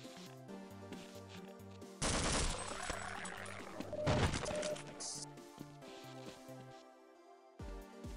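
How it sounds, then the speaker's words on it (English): Magnum revolver shots in Half-Life ring out as several loud, sharp gunshots with echoing impacts, set against a quieter rhythmic game music background. "And those were Magnum bullets, by the way."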